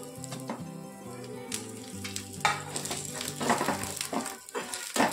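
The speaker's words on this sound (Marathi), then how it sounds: "खोबरे आणि थोडे शेंगदाणे आपण भाजून घेऊया।" Coconut and peanuts roast in a pan with a dry crackling sizzle, broken by repeated scraping stirs and irregular bursts close by.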